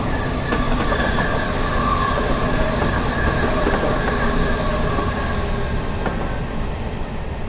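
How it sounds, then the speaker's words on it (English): Train approaching around a bend in Train Simulator Classic, a loud continuous rumble of rolling wheels with rhythmic clicking and faint squeal, steady and close throughout with no talk. "Hear that train coming? It's coming around the bend."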